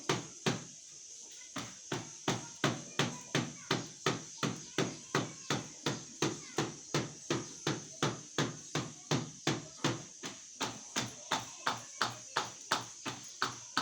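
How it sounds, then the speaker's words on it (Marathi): Steady, rhythmic slapping of hands patting bhakri flatbread dough flat, about two pats per second, close and continuing without a break. "अशी थापायची भाकरी"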